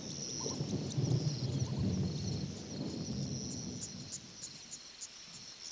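Black storm clouds burst into a thunderstorm, bringing a soft wash of rain with low rolling rumbles beneath it and a thin, steady insect-like whine high above, all fairly faint and distant.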